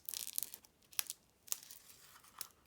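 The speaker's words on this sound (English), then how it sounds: "snip the packet" A new packet of white crinkled seam binding ribbon is snipped and handled with a few short, crisp crinkling rustles, close and fairly faint, with no speech.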